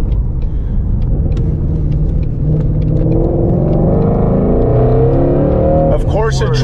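A Ford Shelby GT350 fitted with a K&N intake accelerates onto the interstate. The engine drone rises steadily in pitch as it revs up and sounds loud and close, as if heard from inside the car.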